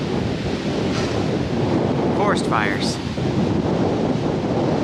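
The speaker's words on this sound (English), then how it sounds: "there's good wind gusts were blowing all night and trying to blow me off the mountainside right now" Strong wind gusts roar steadily across a mountainside in a dense, constant rush buffeting the microphone. A voice speaks briefly over it.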